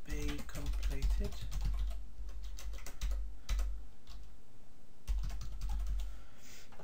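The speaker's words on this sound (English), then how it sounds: "we'll type in here" Steady clicking on a computer keyboard while writing a PHP database query, rapid keystrokes in bursts with brief pauses, close and fairly quiet.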